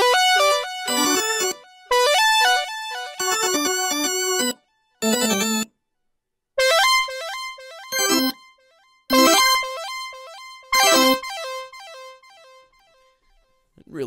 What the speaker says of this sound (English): I play a call and response line between the organs and the synthesizer